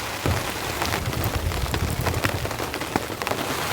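Heavy rain from an extreme storm with strong winds pelts a camping shelter, a loud, dense patter of drops with scattered sharper hits and a low rumbling roar underneath, continuous throughout with no talk.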